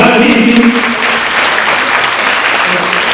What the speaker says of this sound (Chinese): 所以我是不是给同学一个掌声，给他们信心